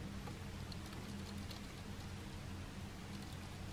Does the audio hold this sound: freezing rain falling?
yes